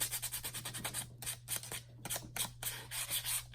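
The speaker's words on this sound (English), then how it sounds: "I sanded both sides of this just to give it a little bit of tooth." Sandpaper rubbing both sides of a journal card, close and brisk, in repeated short back-and-forth strokes with a steady rasping rhythm and brief pauses, heard alone without talk.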